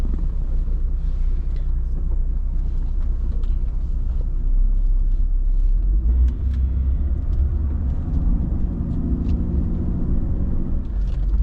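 A 1994 Mercedes-Benz S320 W140 with a six-cylinder engine pulls away from a stop, its low engine and road rumble steady from inside the cabin with a smooth rise as it gets underway.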